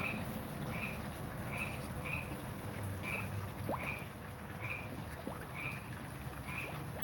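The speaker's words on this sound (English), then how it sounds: "I'm in the middle of a tropical forest in the Amazon jungle. Hear the frogs." Frogs call in an Amazon tropical forest, with short repeated chirps coming at a steady rhythm over a dense, constant hum of insects and forest noise. No one speaks.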